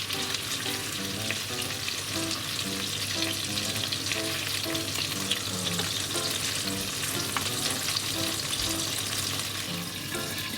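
Pork and cheese-wrapped new potatoes frying in a pan, a steady dense sizzle with fine crackling that continues throughout, close and moderately loud with no talking.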